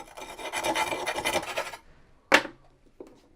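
Corner of a rasp scraped across a kiln shelf, a harsh gritty rubbing for under two seconds, followed by a sharp knock and a faint tap, close and alone.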